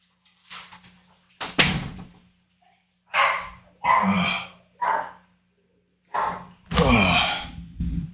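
Indoor dogs bark in loud, separate bursts at a door, some barks close together and others spaced by pauses, with a faint steady hum underneath.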